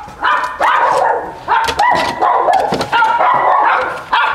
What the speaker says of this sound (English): Okay, killer attack dogs.